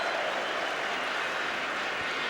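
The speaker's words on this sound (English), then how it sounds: "there's a cheer from the West Ham fans for Alan Devonshire" West Ham fans cheer at the 1980 FA Cup Final against Arsenal, a steady, dense crowd roar from a packed stadium that holds at an even level throughout, with no voices standing out above it.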